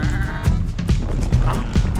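Sheep bleat in a co-op video game, with repeated short wavering calls at a steady rhythm over constant game background sound, close and fairly loud.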